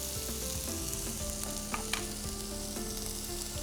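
Chopped tomatoes sautéing in a hot pan give off a steady, soft sizzle that runs evenly throughout, with a couple of brief clinks and faint tonal sounds in the background.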